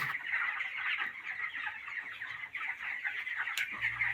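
A flock of 20-day-old broiler chickens kept on sand cluck and chatter together in a dense, steady flock noise, moderately close, with no talking.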